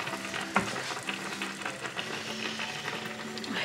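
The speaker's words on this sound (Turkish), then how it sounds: "Kremasını ekliyorum. Bir paket krema ekliyorum." Cream and mushrooms cooking on low heat in a pan give a faint, even bubbling sizzle, with one soft clink near the start and scattered small pops throughout.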